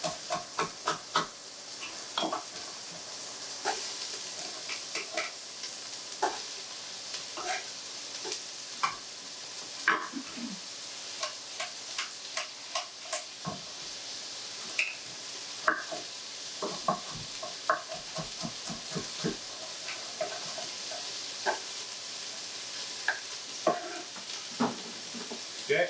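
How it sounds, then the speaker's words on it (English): Vegetables for a chicken stew sizzle and fry in a pan, with frequent clicks and scrapes of a spoon stirring them, steady close sizzle throughout with no talking. "I get all this going, I saute it, I start getting the flavors caramelizing"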